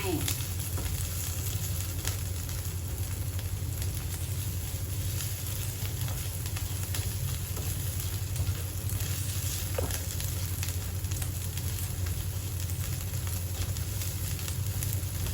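Pork and Thai curry paste stir-fry over fairly low heat in a pan, a steady close sizzle and crackle running evenly throughout with occasional faint scrapes.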